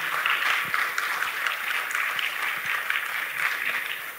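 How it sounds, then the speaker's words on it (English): Seminar audience giving a round of applause for two presenters after their talk on Oklahoma missiles, a steady, dense hiss of many hands clapping at moderate distance, unbroken throughout. "let's have one more round of applause for Mr. Dobbs and Mr. Brewer"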